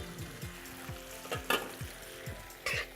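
Pasta and peas tossed into a hot pan sizzle steadily, with a series of soft knocks and scrapes as the food is stirred, plus a couple of louder clatters of a utensil close by.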